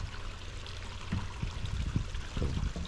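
Water from a small garden pond waterfall splashes and trickles steadily, close up, with irregular low gurgles and spills over a constant flowing wash.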